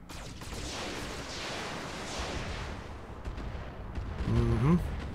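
Weapons fire in the Roguetech mech video game, where combat against heavy vehicles brings a run of muffled booming shots and rumbles that grow heavier near the end, with a voice faintly under them.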